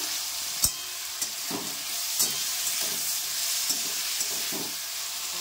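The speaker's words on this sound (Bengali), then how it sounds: "পেঁয়াজটা হালকা ভেজে নেব, তারপরে বাকি সবজিগুলো এক এক করে দেব।" Onion and vegetables frying in a pan with tomato and salt, a continuous loud sizzle with occasional soft stirring scrapes and small taps, no voice.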